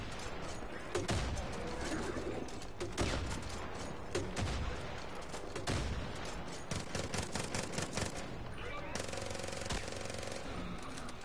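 Dense, loud gunfire in the video game Far Cry 5, with sustained automatic bursts and rapid shots that run almost continuously, layered with game effects and brief mechanical clatter.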